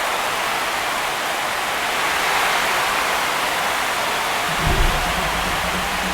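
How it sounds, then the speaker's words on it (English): A stadium crowd roars in MLB The Show 26 during a Braves versus Angels baseball game, a loud, steady wash of cheering with a dull low thump near the end. "Here comes the crowd. They're feeling it right now."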